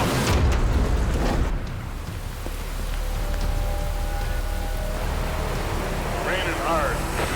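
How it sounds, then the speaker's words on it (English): Heavy rain pours down on a mountain highway pass, a dense, loud hiss of water over a low road rumble. Brief faint tones and a short squeal are heard partway through, with no talk. "Raining hard."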